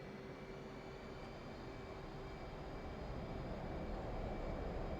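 F/A-18 Hornet jet engine in the DCS flight simulator being throttled all the way up before take-off, a faint, steady roar that grows slightly louder toward the end, with no voices.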